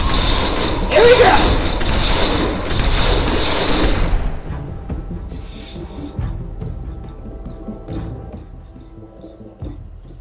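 Gunfire and heavy thuds in The Walking Dead Season 2 video game, a dense burst of loud impacts over the first few seconds that fades into a quieter tail.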